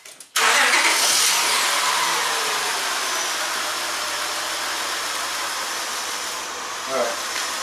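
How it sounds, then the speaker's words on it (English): A 1998 Acura CL with a P0306 injector circuit fault cranks and fires up abruptly near the start, then settles into a steady, fairly loud idle for the rest of the clip, with a slight bump near the end. "I'm just gonna start the car"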